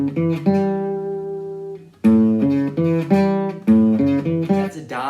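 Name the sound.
A7 dominant seventh arpeggio played on gypsy jazz guitar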